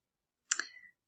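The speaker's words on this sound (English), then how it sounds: "Then we just need to go down to the bottom of the box and click continue." A single crisp computer mouse click sounds close and quiet, a brief tick standing alone in near silence.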